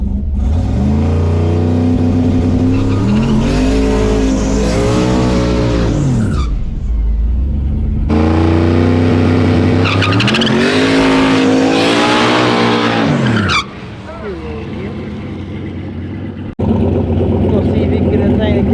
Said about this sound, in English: I bury that needle every time I do a burnout.